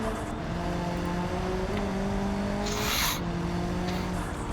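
Multi-car crash in the BeamNG driving game, with steady engine drone, a tire skid squeal and a bright crunching impact burst near the end.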